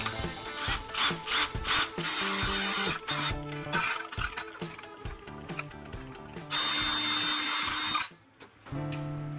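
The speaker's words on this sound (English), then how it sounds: "Now we're going to drill out those tray holes." A power drill bores out the valley tray bolt holes on an Oldsmobile small block engine in repeated short bursts, whirring up and stopping with pauses between runs, close and fairly quiet.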